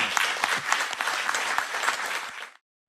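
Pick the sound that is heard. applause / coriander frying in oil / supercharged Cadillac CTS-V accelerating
applause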